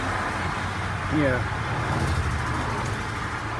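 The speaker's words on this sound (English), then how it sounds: "it's easier to have the volume up so I can hear more over the traffic" Road traffic rushes past a broken-down vehicle on a highway shoulder, a steady roar of passing cars and trucks close by, with a brief spoken word over it.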